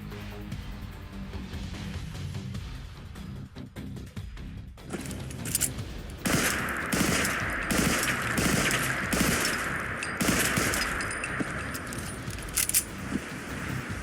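Fallout 4's Assault Pistol, modeled on the Colt SCAMP 5.56 burst-fire pistol, fires repeated short bursts of sharp cracking shots with clicks and metallic clatter between them, growing denser over steady game ambience.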